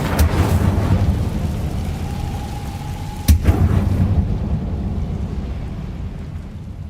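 A fire spell is cast in a Hogwarts video game, giving a deep whooshing blast with sharp cracks near the start and midway over a sustained roaring rumble that fades out.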